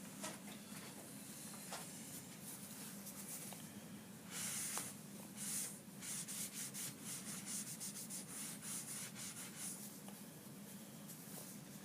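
Cleaner is wiped over marker lines on a painted surface, giving quiet, close rubbing strokes that become more rhythmic and scratchy partway through.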